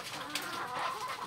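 Egg-laying hens cluck softly in short, scattered bursts, faint and somewhat distant, with no voices.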